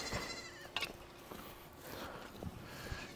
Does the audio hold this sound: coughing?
no